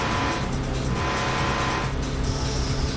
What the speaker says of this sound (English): that's why the car is very silenced, because it's a front engine